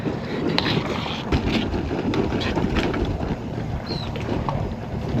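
Strong wind buffets a boat camped 100 km offshore, a loud, gusty roar rushing across the microphone with faint clunks and rattles beneath it.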